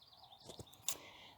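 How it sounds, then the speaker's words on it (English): Faint, high chirps from birds at a distance, a few short tweets in a quiet outdoor setting. "the birds are chirping"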